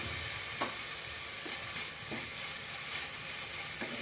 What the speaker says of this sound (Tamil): இப்போ ரெண்டு தக்காளி அரிஞ்சி வச்சுருக்கேன் அதை சேர்த்துருவேன்